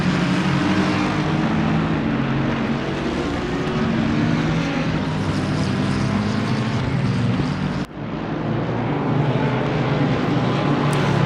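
A McLaren GT race car in FRL livery, number 34, runs at Imola in Assetto Corsa Competizione, its steady engine drone loud and continuous with a brief dip near the end.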